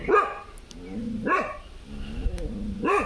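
A dog at a farmhouse door barks three times, sharp and fairly close, with short pauses between barks and nothing else beyond faint background noise.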